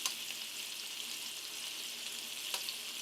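Meat sizzling in a pan, a steady, quiet hiss of frying with faint crackles and a couple of brief pops, heard alone without voices.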